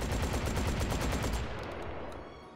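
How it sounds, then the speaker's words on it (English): Scalpel LE automatic shotgun firing in Hot Dogs, Horseshoes & Hand Grenades, a VR game: a fast, loud string of heavy blasts for over a second, then a ringing tail fading away. "But yeah, it is a really good automatic shotgun. The Scalpel LE."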